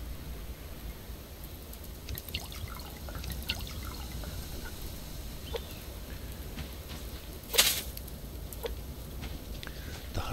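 Water trickling and dripping as plants are watered in the survival game Subsistence, with scattered small drips and splashes over a low background hum and one louder splash near the end.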